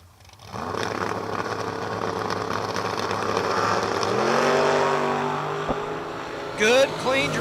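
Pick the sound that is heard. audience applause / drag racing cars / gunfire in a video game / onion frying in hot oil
drag racing cars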